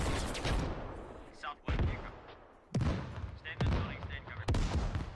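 Rocket volley in the video game Squad: a series of heavy, booming launches and impacts in separate bursts, each a sharp blast followed by a rumbling tail, with quieter gaps in between.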